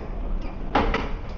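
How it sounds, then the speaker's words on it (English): Train doors sliding open on a direct service at a station platform, a single mid-level rumbling slide over steady background hum, followed by a faint second movement. "Doors opening."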